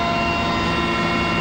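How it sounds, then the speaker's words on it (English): An Indian Air Force Mi-17 helicopter in flight gives a loud, steady engine and rotor roar, close and continuous, with no voices over it. "on board Mi-17 chopper of Indian Air Force"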